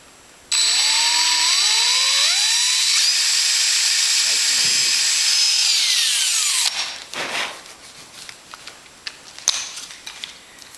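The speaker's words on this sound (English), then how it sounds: "Small drill." A small power drill whines steadily at high pitch, its tone shifting as it bores through metal on an RV-7 aircraft wing fuel drain flange, then stops, followed by scattered clicks and handling noises.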